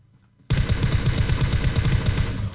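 Rapid automatic gunfire in PUBG Mobile erupts suddenly after a brief quiet moment, a loud, dense, unbroken burst of quick shots rattling on close by, with no talk over it.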